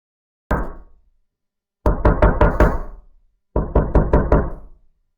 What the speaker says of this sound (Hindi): दरवाजे पर जोर जोर से दस्तक हुई